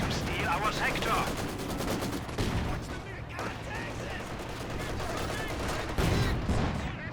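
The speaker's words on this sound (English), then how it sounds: "Nice rifle grenade, doesn't quite get the kill." Rifle grenade blast and rapid gunfire in a 2v2 competitive multiplayer shooter match, dense bursts of shots running throughout with a sharper louder hit near the end.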